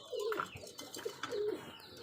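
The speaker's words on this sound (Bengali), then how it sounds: "আজ 2 জোড়া কোকা কবুতর ডেলিভারি দেব পাবনা আক্তার ভাইয়ের কাছে" Koka pigeons, a red running master pair among them, coo in low repeated phrases close by, a few short coos spread over a couple of seconds with soft chirps in between.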